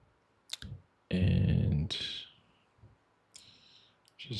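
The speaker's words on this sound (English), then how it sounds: "Look at all this terrible clicking." Computer mouse clicking, a couple of sharp isolated clicks followed by a dense, loud burst of rapid clicking and a few more scattered clicks, close and dry with no one speaking.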